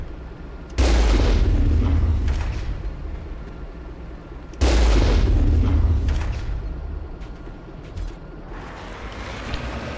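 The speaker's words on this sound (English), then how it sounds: "they're shooting at me" Enemy gunfire in Mass Effect 3 lands as two loud, deep booming blasts about four seconds apart. Each one rumbles and then fades into a steady low roar, with no talking over it.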